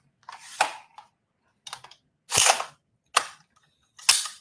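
A gun's charging handle being pulled back until the bolt locks open, several sharp metallic clacks and slides with brief pauses between them, close and crisp.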